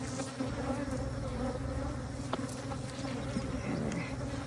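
Honey bees hum and buzz in a dense, steady drone around an open hive being inspected in May, close and continuous with no voices.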